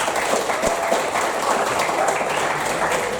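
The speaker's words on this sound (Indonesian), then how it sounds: "Tepuk tangan buat Indonesia." Steady, loud audience applause at a university talk on leadership and environmental policy, dense and continuous with occasional sharper claps, no voices over it.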